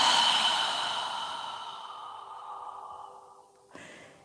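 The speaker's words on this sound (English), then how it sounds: "exhale through your mouth. As you're exhaling, imagine you're fogging a mirror with your breath" A single slow, breathy exhale through the mouth during a yoga breathing exercise, like fogging a mirror. It is close and airy, starts strong and fades gradually over several seconds, ending with a brief soft rustle.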